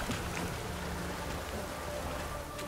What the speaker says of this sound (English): Looked like it was raining, and here it is.